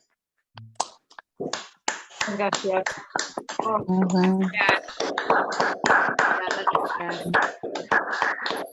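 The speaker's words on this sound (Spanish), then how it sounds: "activamos nuestros micrófonos, como me gusta más decir a mí, para aplaudirlos a ellos en agradecimiento a su presentación." Scattered, uneven claps and taps from an online audience clapping through unmuted microphones after a presentation, sharp and close, mixing with voices speaking over them.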